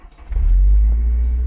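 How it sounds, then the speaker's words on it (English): A Honda S2000 VTEC engine cranks and fires, settling into a loud, steady idle rumble close by. "it's always a pleasure to hit the red button and start the VTEC"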